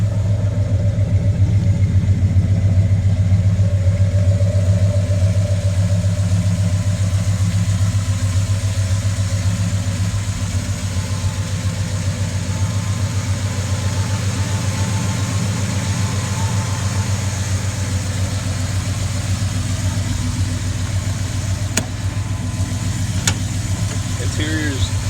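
A 1998 Chevy Silverado Z71 pickup engine idles steadily after a cold start, a continuous low rumble with a strong, even low-frequency drone holding at constant loudness throughout, with a couple of faint clicks near the end.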